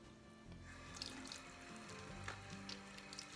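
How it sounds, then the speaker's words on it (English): Steady running tap water pours over a bar of honey and beeswax cold process soap as it is rinsed, a continuous close splashing stream with faint drips and no talk. "So we'll rinse it off."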